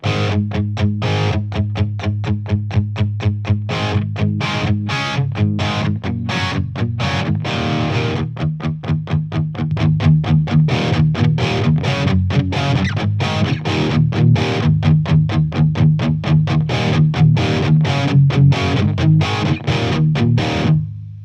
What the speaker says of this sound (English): here's the crunch channel with the pre-shape control